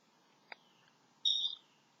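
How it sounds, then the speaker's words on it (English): Faint outdoor bird calls: a brief click-like chirp, then a thin high call lasting about a quarter second, distant and alone over quiet background hiss. "I just keep hearing these birds that are disturbing me."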